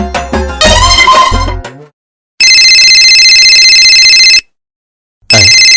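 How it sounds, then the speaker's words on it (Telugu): A mobile phone ringtone plays loudly in two bursts of steady, bright electronic tones, with a brief musical chime at the start and a short pause between the rings. "భాస్కర్ అన్నయ్యకి ఫోన్ చేస్తే పన్ను సింగ్ సెల్ మోగిందేంటి?"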